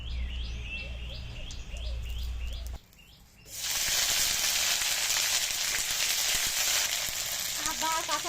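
Cumin seeds dropped into hot oil in a wok burst into a loud, steady sizzle that fills the second half, coming in after birdsong, a low hum and a brief quiet pause.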